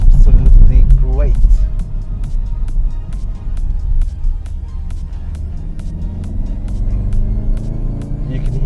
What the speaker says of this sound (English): the noise in the back once the car is in race mode is absolutely great